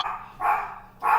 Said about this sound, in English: Can't hear over the dog.